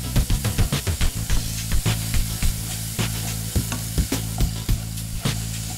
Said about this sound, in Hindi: इसमें मैं अभी डालूंगी टमाटर।